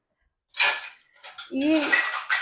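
Rice is stirred in a pot with a spoon in a home kitchen, giving a few short metallic scrapes and clinks against the pot, close and moderately loud, with brief pauses between strokes.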